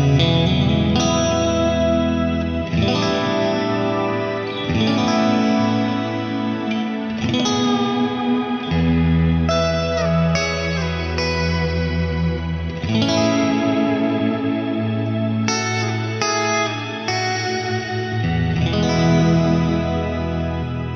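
An electric guitar runs through a Crazy Tube Circuits Bulb compressor pedal, playing long, sustained, evenly flattened notes with a chorus-like shimmer and echo. The sound is loud and steady, with no talking.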